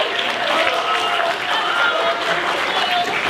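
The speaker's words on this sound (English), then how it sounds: "Round of applause for Minwoo." Audience applause for a presenter at a pitch session, a steady wash of clapping with a few voices and cheers mixed in, holding at an even level throughout.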